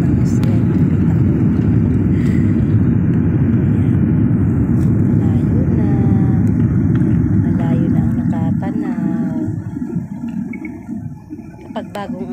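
A loud, continuous roar of jet engines and rushing air fills the cabin of a climbing airliner, steady and heavy before easing slightly near the end. Faint voices can be heard beneath it.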